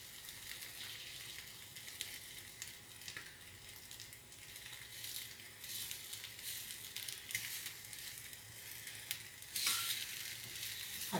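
An egg sandwich of bread and separated egg browns in a skillet, giving a continuous close sizzle with fine crackling and a few louder spits near the end, no voices present.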